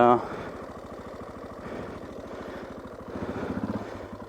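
Suzuki DR650 motorcycle engine running at a steady, low pulsing idle-to-low throttle on a smooth dirt hill, with a mild rise in revs near the end; close and moderately loud throughout.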